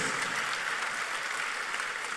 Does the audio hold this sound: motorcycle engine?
no